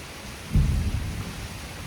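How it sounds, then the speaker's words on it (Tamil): A deep rolling thunderclap breaks out about half a second in during a rainy evening, rumbling loudly and then slowly fading over a steady hiss of falling rain. "இடி சத்தம் மின்னல் வேறு"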